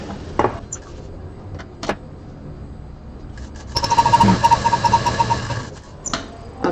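Sewing machine stitching along the edge of a quilt runs in one fast, whirring burst of about two seconds, framed by quieter handling clicks and thumps before and after.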